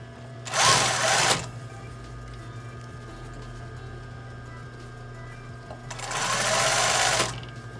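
A sewing machine stitches a blouse seam in two loud, steady whirring runs, one short and one longer, close by. A quiet hum continues between the runs.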